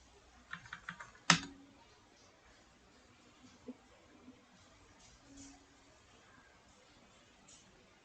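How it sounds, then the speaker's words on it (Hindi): Keystrokes on a computer keyboard, typed while entering a search in software setup, come as a short quiet burst of clicks followed by a single sharper key press, then near silence with faint scattered ticks. "मैं यहाँ पे लिखता हूँ गिटहब डेस्कटॉप"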